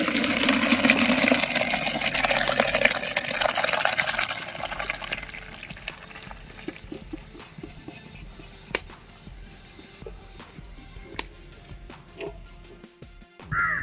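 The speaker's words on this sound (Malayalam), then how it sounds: "ഇനി നമുക്കിതൊന്ന് വെള്ളത്തിൽ നിന്ന് ഊറ്റിയെടുക്കാം." Water drains from a pot of boiled macaroni through a strainer, a loud steady pour that tapers into softer dripping and scattered clinks, with no one talking.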